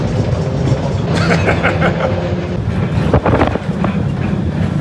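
A heritage tram runs at the Ballarat Tramway Museum with a steady rumbling roll, rail clatter and squeals, and a few sharp clacks from the wheels over the track.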